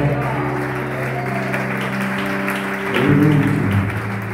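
Congregation applause inside a church during a Sunday service, steady clapping blended with sustained musical tones and voices, swelling slightly near the end.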